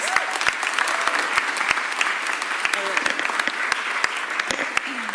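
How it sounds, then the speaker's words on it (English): A room full of people claps steadily, a dense wash of applause that holds at an even level throughout, with a voice faintly heard beneath it. "give them a round of applause, please"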